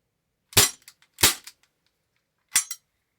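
Three sharp pops from an airsoft gas blowback pistol, two in quick succession and a third after a pause, each loud and close with short metallic slide clatter and a brief tail.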